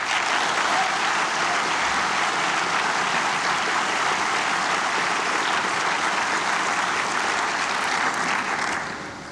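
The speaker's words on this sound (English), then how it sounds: "Our families deserve a round of applause." Sustained applause from the audience at a teachers' investiture ceremony, honouring the graduates' families; a dense, even wash of clapping that holds steady for several seconds and then begins to taper off near the end.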